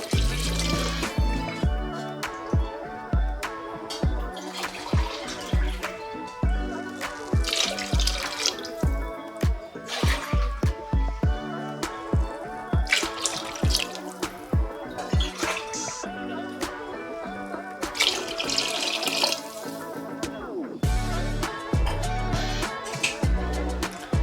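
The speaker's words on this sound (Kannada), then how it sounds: "ಈಗ ಇದಕ್ಕೆ ನೀರು ಹಾಕೊಳ್ಳೋಣ" Water pours and splashes from a glass into a pot for mushroom biryani in repeated bursts, close up, with clanks and clinks of the glass between pours.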